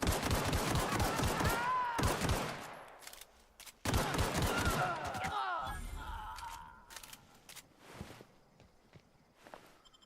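Rapid bursts of gunfire in The Outer Worlds, loud and close in dense volleys, stop briefly, then resume before trailing off into scattered shots and impacts.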